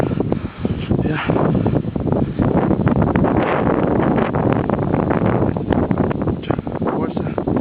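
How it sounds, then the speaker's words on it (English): Strong wind in a December snow storm buffets the microphone with a constant, dense roar and gusty rustling, while voices talk now and then. "the wind is super strong right now"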